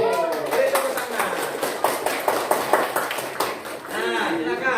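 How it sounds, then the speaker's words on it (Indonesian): Students in a secondary school classroom clap together in a quick burst of applause, with voices mixed in and cheering near the end. "Beri tepuk tangan"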